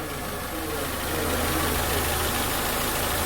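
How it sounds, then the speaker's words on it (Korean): A Renault Samsung SM5 LPG car engine idles loudly and close, a steady rumbling drone with a faint rhythmic knock running under it throughout. "차의 엔진 소리를 한번 들어보라고 하는데"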